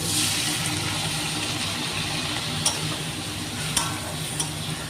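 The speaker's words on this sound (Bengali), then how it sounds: "কষিয়ে সামান্য নাড়াচাড়া করে নিয়েছি" Potatoes and spices fry in a pan as they are stirred, giving a close, steady sizzle with a few sharp scraping ticks.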